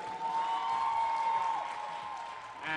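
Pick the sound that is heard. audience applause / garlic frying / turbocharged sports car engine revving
audience applause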